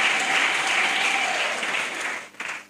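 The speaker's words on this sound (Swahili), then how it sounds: "Hebu mpigeni makofi." Church congregation clapping for a priest, a dense, loud burst of applause that holds steady before thinning out and trailing off with a few last claps.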